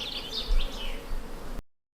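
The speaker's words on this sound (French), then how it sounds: "les abeilles s'attaquent un petit peu au micro" Honeybees swarm and buzz close around a freshly opened small hive with bald brood, a dense, wavering drone that crowds the microphone before cutting out abruptly near the end.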